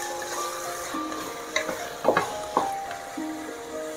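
Masala with tomatoes and salt frying in a pan for pulao, with a steady low sizzle and several clear scraping stir strokes of a spoon against the pan, close and alone without speech.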